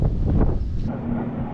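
Strong wind gusts buffet the microphone by a bridge during a windy crappie fishing session, a loud, rumbling roar that rises and falls over a couple of seconds.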